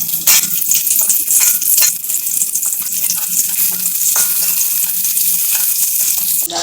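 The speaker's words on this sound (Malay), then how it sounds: "Fry the onions, goreng bawang merah yang dihiris dulu." Sliced shallots fry in a little oil for sambal goreng, giving a steady close sizzle throughout, with occasional light clicks and scrapes from stirring in the pan.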